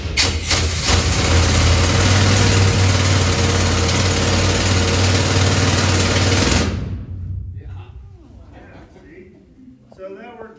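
Loud, continuous pounding roar of a carriage-mounted pneumatic rock drill running for several seconds, then cutting off, leaving quieter mechanical noises and voices.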